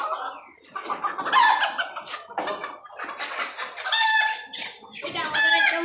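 Chickens cluck loudly and close by while a rooster crows in repeated bursts, the calls overlapping in a busy farmyard chorus.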